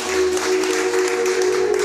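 A church congregation applauds, with a continuous, fairly loud wash of clapping over a steady tonal hum.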